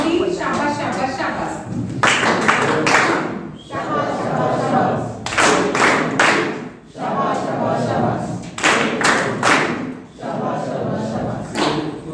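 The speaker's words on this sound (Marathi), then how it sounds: "सगळ्यांनी शाबास टाळी वाजूया" A group of people claps hands together in bursts during a road-safety lesson in a teacher training session, loud and close, with brief pauses between rounds of applause.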